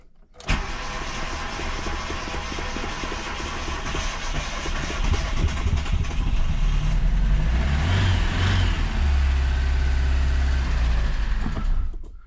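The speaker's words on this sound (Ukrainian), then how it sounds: "теоретично машина повинна б завестись" A ZAZ 1102 Tavria with a carburetor cranks, catches and settles into a loud, steady idle that swells with a couple of revs, close by with no talking.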